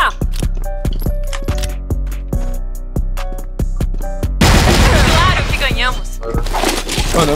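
Grenade blast and rapid gunfire from the CrossFire online shooter, a loud run of sharp repeated shots leading into a sudden heavy burst of noise, with players talking over the action.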